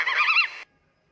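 A single goose honk, a short harsh nasal call lasting about half a second, loud and close, cutting off abruptly into silence.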